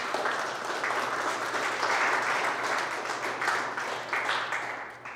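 A church congregation breaks into sustained, dense applause that fills the room steadily for several seconds, with no voices standing out.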